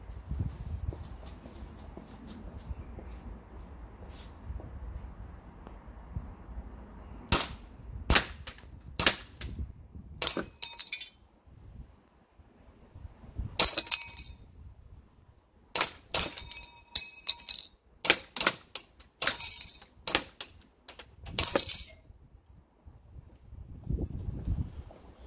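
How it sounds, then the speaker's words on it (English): KWA Mega Arms CQB gas blowback airsoft rifle firing at a Texas Star steel plate target from about 10 meters, in wet outdoor conditions; sharp cracking shots come in singles and quick clusters with metallic plate pings, separated by quiet pauses. "let's shoot the Texas Star and let's see. Whatever's left in the mag, we'll fire at it until all plates are gone"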